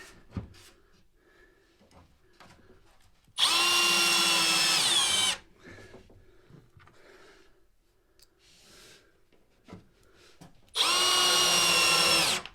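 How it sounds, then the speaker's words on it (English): Power drill driving screws into shelf brackets, two loud whirring bursts of about two seconds each separated by quiet handling clatter and light knocks nearby. "I'm just going to set my little screws from the bottom so that it doesn't move around on me."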